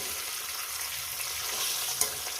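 Fish frying in a pan, a continuous bright sizzle with a small pop near the end and no talking.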